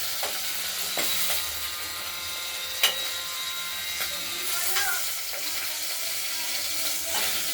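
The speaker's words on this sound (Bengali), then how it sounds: "মাছের সঙ্গে মাথাও আছে, এগুলো আমাদের ভাজা হয়ে গেছে।" Pieces of snakehead fish, heads included, fry in hot oil with a continuous close sizzle and spatter, punctuated by occasional sharp clicks and scrapes from the pan.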